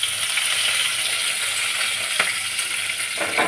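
Steady hiss and crackle of cardamom and curry leaves frying in hot oil for a South Indian white kurma, close and continuous with a faint stir partway through.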